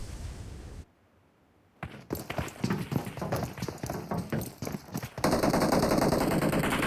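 Rapid automatic gunfire from a PUBG Mobile esports league match, a dense rattling stream of shots that briefly drops out to near silence, then resumes and swells into a loud, continuous roar.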